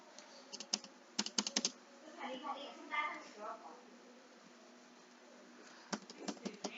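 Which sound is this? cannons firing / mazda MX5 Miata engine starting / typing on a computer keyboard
typing on a computer keyboard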